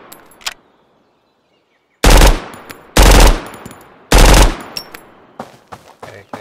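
Suppressed rifle fire in the shooter game Road to Vostok: three heavy, punchy shots about a second apart, each with a short tail, followed by softer clicks and rattles of handling, with no speech.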